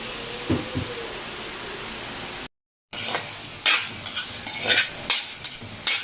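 Pork frying and browning in its own rendered fat in a pan, a steady crackling sizzle with a few sharper pops and stirring scrapes, briefly cut by a moment of silence before the frying resumes.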